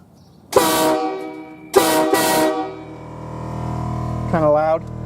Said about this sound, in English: Horns work.